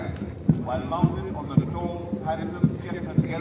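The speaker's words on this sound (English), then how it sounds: "So we see 5 horsemen marching in front of the dais" Five cavalry horses marching past a reviewing dais at an NCC rally, their hooves striking in a steady clip-clop about every half second, close and distinct over a background murmur of voices and crowd noise.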